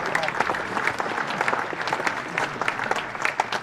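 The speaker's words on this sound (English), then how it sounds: "Warm applause." Steady applause rises from a cricket crowd at a county match, a fairly thin, dense patter of clapping heard from a distance, with a commentator talking over it.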